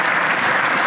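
Conference audience applauding the speakers after a talk, a brief burst of dense, even clapping from a crowd in a hall.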